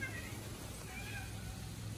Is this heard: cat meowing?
yes